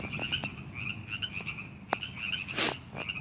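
A bullfrog about seven inches long gives a few croaks outdoors, heard as a repeated higher-pitched call with a short sharp note and a louder burst near the end, fairly faint over steady background noise.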